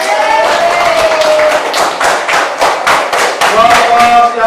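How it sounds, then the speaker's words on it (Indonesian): Students in a classroom give group applause for a winning team, a loud cluster of uneven claps and taps with some children's voices mixed in. "Beri tepuk tangan."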